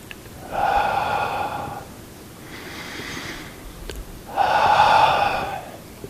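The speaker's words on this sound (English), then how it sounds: "breathing out." Slow exhaled breaths during a seated breathing exercise: three long, airy, softly voiced whooshes, the middle one fainter, with short quiet pauses between them and no talk.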